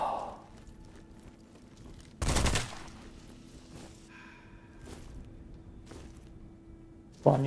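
Gunshots from a first-person shooter, fired at mushrooms in the dark fantasy game Witchfire: a loud burst of shots near the two-second mark, a few quieter thuds later, and another sharp shot at the end over a low ambient hum.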